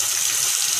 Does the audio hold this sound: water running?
yes